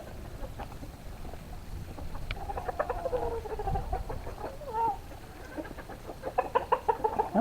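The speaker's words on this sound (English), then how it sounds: "Come on, chickens." Backyard chickens cluck and chatter in a run, a mix of soft repeated clucks and a few louder calls that quicken near the end, with no talk over them.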